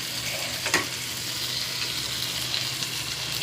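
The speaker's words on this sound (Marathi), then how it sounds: "हळूहळू करून बांगडे सोडून घेत आहे. आपला मसाला छान सॉटे झालेला आहे." Mackerel fries in a sautéed spice masala, a dense continuous sizzle close up with a soft clatter of stirring early on and no voices.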